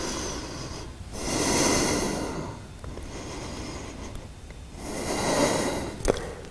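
Deep breathing during a yoga bridge pose: two long, audible breaths swell and fade at an unhurried pace, close to the listener, with quiet stillness between them and no speech.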